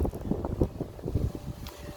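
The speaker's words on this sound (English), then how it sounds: "It's getting a bit windy out here." Wind gusting outdoors, a steady rough rumble buffeting the microphone, loud and close throughout.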